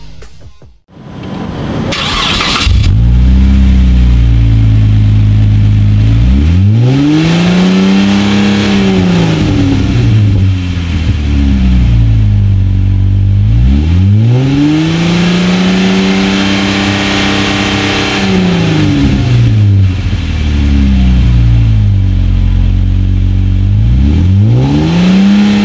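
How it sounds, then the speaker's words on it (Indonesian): A modified hybrid Jeep fitted with a black Magnaflow exhaust starts up, then revs loudly and close by, climbing in repeated long sweeps and dropping back to a deep idle between them. "Mari kita tes bunyi dari suara knalpot ini."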